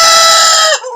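A baladi or Fayoumi chicken gives one loud, close, sustained call that cuts off abruptly, followed by a brief softer tail.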